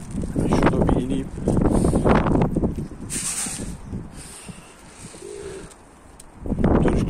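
Dönüş pigeons coo in soft, throaty bursts near a chimney, with several low calls rising and fading across the stretch while people talk nearby.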